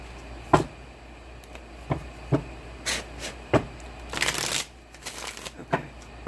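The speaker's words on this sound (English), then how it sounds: "I'm going to lay the cards." Tarot cards are shuffled and laid out on a surface, giving sharp, irregular snaps and riffles with short bursts of flicking between quiet pauses, close and clear, with no talking.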